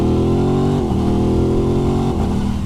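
A 2021 Aprilia RS660 sport bike starts and settles into a loud, steady engine drone close by, with a brief dip in pitch partway through, alone without talk.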